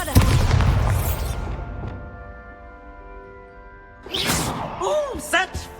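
A Bombarda exploding spell in Hogwarts Legacy lands as a heavy, close boom at the outset, fading into a musical tone before a voice speaks.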